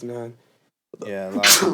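One short, sharp sneeze bursts out close to the mic right after a pause, with people talking just before it.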